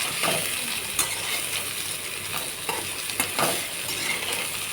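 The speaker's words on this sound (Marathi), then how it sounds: "आता हे दोडका परतून घेणार आहे।" Ridge gourd sautéing in hot oil in a wok, a continuous soft sizzle broken by occasional metallic clinks and scrapes of a spatula, close up and without any voices.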